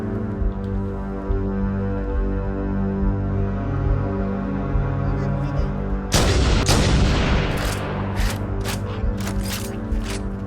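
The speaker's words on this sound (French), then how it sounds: "Il nous tire dessus." Gunfire in the Halo video game: a steady hum of game sound gives way after about six seconds to a burst of loud, sharp shots and impacts, with several more cracking reports following at irregular intervals.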